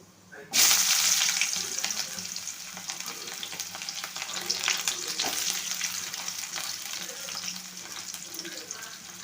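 Chopped onions dropped into hot oil already crackling with mustard seeds for a catfish curry, a sudden loud sizzle that settles into a steady close frying hiss with light stirring.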